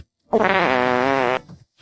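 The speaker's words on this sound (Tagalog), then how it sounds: "Madalas kapag nauutot ang isang tao" A single drawn-out fart, loud and close, with a buzzy, wavering pitch that lasts about a second before cutting off, alone with no talk.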